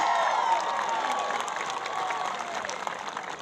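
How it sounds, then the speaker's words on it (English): An audience at a Roxborough High School graduation applauds its award recipients, a sustained wash of clapping and crowd noise with faint cheering throughout. "Let's give one final round of applause for all of our award recipients"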